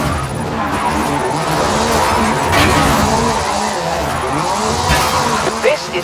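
Ford Focus RS RX, someone's Hooligan Gymkhana 10 rally car with a 2-litre turbocharged front-mounted engine and all-wheel drive, drifting at night: a continuous loud engine roar with tire noise, and voices talking over it throughout.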